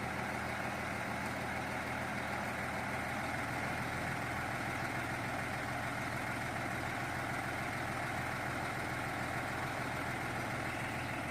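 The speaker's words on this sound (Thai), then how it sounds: "เครื่องก็จะเป็น SO7C ครับ เครื่อง 195 นะครับ" A Hino six-wheel dump truck with an SO7C 195 hp engine idles steadily, a low continuous diesel rumble that holds even and unbroken throughout with no voices.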